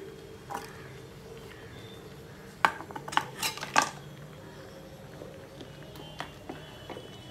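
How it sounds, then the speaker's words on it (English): A metal utensil clinks and scrapes against a frying pan in a short cluster while spreading oil, over a faint steady background hum, fairly quiet and close. "Let me spread the oil everywhere on frying pan"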